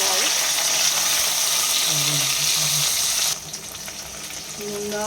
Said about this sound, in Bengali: উচ্ছে ভাজা হবে